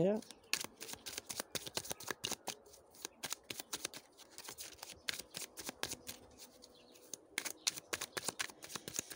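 Cards are handled, shuffled and drawn during a spiritual card reading: rapid, crisp flicks and snaps come close up in irregular bursts while someone speaks.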